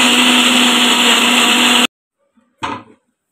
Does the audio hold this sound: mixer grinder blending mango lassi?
yes